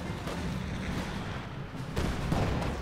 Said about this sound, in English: Infanterie Geschütz lets loose, revealing its presence with a bang.